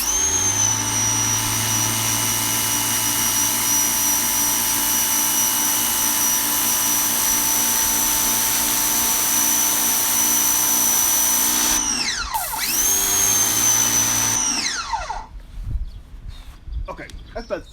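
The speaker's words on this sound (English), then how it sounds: "here I am with my standard nozzle on my electric power washer" Ryobi 2300 PSI electric power washer with a standard nozzle spraying a sidewalk, a loud steady motor whine and hiss, cutting out briefly twice near the end before stopping.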